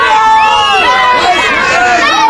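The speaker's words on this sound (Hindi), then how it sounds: "गजब का भीड़ है, गजब का।" A dense crowd of passengers on a railway platform at Janakpur Road station, near the Nepal border, with many voices overlapping into a steady, loud babble that continues throughout.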